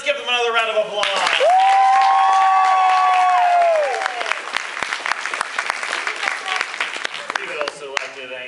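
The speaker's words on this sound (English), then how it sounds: "Let's give them another round of applause." An audience claps and cheers for child performers after a stage production of Jack and the Beanstalk. Loud whooping voices rise over dense clapping early on, then the applause carries on alone and slowly thins.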